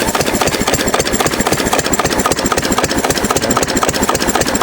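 A 6 HP Witte diesel, a compression-ignition engine with flywheels and no glow plug, runs steadily nearby, its loud rhythmic knocking chug continuous throughout with no voices.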